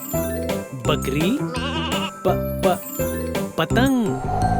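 A goat bleats in a children's nursery rhyme, the wavering cries set among bright musical tones and jingles.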